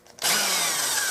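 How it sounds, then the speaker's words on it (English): A power drill with a quarter-inch bit bores a small hole during restoration work on an H&R 28-gauge shotgun. It kicks in abruptly after a short quiet moment and then runs as a loud, steady, close whine. "So 1/4 inch bit will drill what I need."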